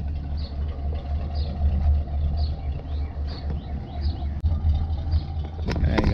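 A carbureted car engine runs at a steady idle, a loud, close low rumble with faint clicks and light chirps over it.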